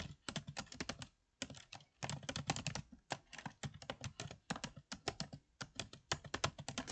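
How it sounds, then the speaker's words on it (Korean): Quick bursts of close, crisp clacking come from a computer keyboard as someone types, including Enter and Tab presses, with irregular rhythm and short pauses between runs of keystrokes. "엔터 치셔서 줄이 바뀌면 그냥 엔터 치시고 쓰시면 돼요."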